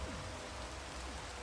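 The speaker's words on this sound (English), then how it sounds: "Actually, the rain makes it where it's not so loud." Steady rain falls in Minecraft's Vault Hunters modpack, a constant dense hiss of drops filling the whole moment with no voices over it.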